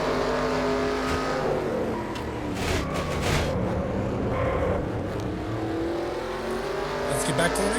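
Onboard race car engine during an NRSL Hooters Series race, a loud sustained engine drone with shifting revs and brief tire noise, under a commentator's voice.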